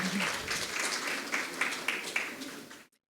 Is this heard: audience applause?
yes